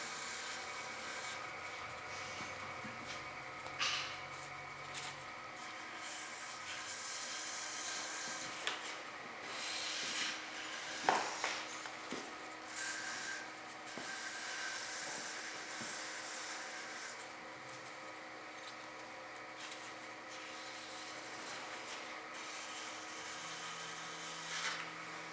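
A turned wooden Christmas ornament sanded with 320-grit paper on a lathe, a soft continuous rubbing hiss over a low motor hum with a few brief scrapes, quiet and steady without talk.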